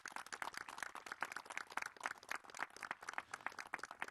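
Reporters applaud together to open a presidential press conference, a dense, even burst of clapping from a roomful of people that lasts several seconds without any speech.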